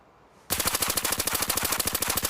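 Rapid, steady automatic fire from an MP5 in the video game Arena Breakout: a loud, close burst of evenly spaced shots that starts abruptly after a short quiet lead-in and runs without pause.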